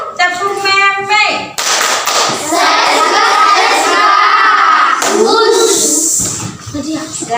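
Children join a rhythmic tepuk hand-clapping game in a classroom, quick patterned claps and taps mixed with chanting and a teacher's voice, close and lively.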